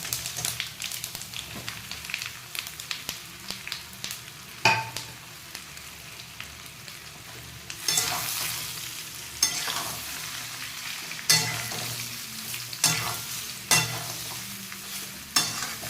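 Spinach muthiya are fried and stirred in a tempering with sesame seeds in a pan, a steady low sizzle broken by repeated scraping stir strokes and occasional sharp clatters, close and fairly quiet.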